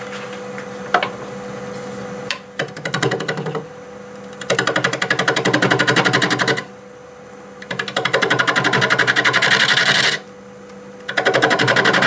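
A lathe cuts a black walnut piece while a tenon is flattened, with loud rattling, chattering bursts of tool contact broken by short quieter gaps where only the spinning hum remains, and no voices.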